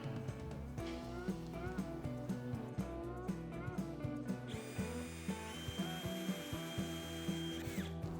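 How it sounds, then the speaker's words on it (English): A drill with a steel drill bit bores a pilot hole in steel, whirring steadily with rhythmic ticking and grinding pulses, close and fairly quiet, then its pitch rises to a higher whine partway through. "You want to start by drilling a pilot hole."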